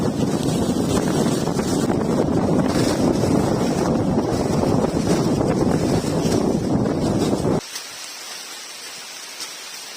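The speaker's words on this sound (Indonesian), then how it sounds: "ditambah ini sekarang lagi ada badai guys, jadi angin kencang" Strong storm wind roars as a loud, continuous broadband buffeting across the microphone on Mount Rinjani, dropping abruptly to a quieter hiss near the end.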